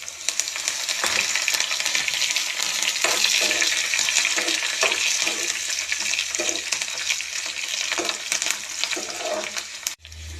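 Garlic with pandan and curry leaves frying in hot oil, a steady close crackling sizzle with occasional stirring scrapes, running continuously and cutting off briefly near the end, no speech heard.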